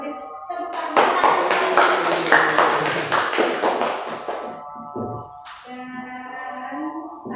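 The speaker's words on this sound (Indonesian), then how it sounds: "Beri tepuk tangan." Classroom applause from students, a burst of dense clapping running for several seconds, then fading as a voice talks over the end.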